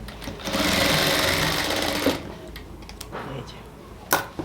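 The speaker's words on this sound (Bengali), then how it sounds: "এই যে আমরা কমপ্লিটলি সব কিছু ওভারলক করে এটাকে ফিনিশিংভাবে সেলাই করে ফেললাম" An overlock sewing machine runs in a loud, close burst for about two seconds while finishing the hem of a ladies' pant, then stops, followed by a few clicks and handling knocks.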